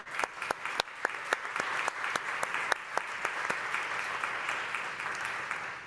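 Audience applause at the close of an architecture and design talk in Saudi Arabia, a steady crowd clapping with sharp individual claps standing out, sustained throughout without any voices.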